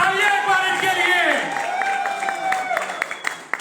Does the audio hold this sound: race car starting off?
no